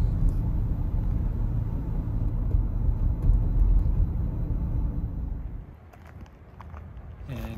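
Steady low rumble of a car being driven, loud and continuous with road and engine noise, easing off and dipping quieter near the end before rising again.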